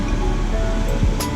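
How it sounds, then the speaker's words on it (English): Ocean surf at sunset along a rocky coast above sea caves, a steady broadband roar of breaking waves running continuously with a brief brighter splash near the end, no voices. "Look at the strength of the ocean, it's just incredible."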